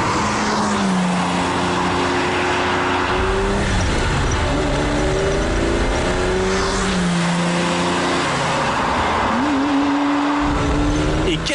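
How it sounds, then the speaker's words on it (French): The V12 of a Ferrari 365 GTB/4 Daytona, a 1968–1973 car, sings loud and close, rising and falling through revs and gear changes with no talking. "La musique, c'est ça la musique, c'est le V12."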